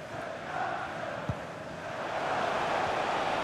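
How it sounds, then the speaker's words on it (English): Stadium crowd in a FIFA 21 Premier League match between Sheffield United and Everton roars as a steady, dense wash of distant cheering and chanting, swelling slightly toward the end. "Well, just listen to the crowd."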